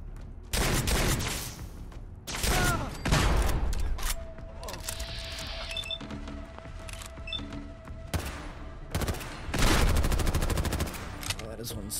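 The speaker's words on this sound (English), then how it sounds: "Oh, that is one strong ass gun. Oh my god. It's a Gauss gun." Gauss gun fire in Fallout 4 with the America Rising 2 Legacy of the Enclave mod: repeated sharp, loud shots in bursts among other gunfire and mechanical whines, close and punchy, with a voice talking in between.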